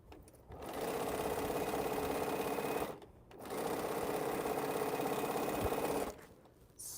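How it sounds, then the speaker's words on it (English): A sewing machine stitches quilt pieces together in two steady bursts of rapid, even clatter, each about two and a half seconds long, separated by a short pause, close and clear with no talk. "So let's sew."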